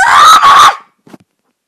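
A young player's high-pitched, loud scream over voice chat during a Blitz Brigade match, lasting under a second with a short dip in the middle, followed by a faint brief noise and then silence.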